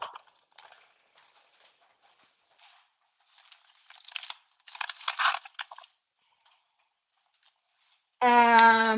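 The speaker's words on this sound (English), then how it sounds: "They're about as crunchy as that rock." Hard, dried goji berries are crunched and chewed in a series of dry, crackling bites, close and fairly loud, with quiet gaps between them. A voice breaks in at the end.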